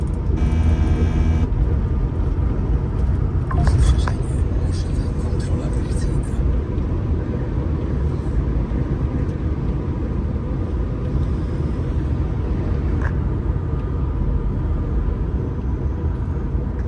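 A truck driving on a motorway in France, a steady loud cabin drone of engine and road noise throughout, with brief beeps near the start and someone talking over it.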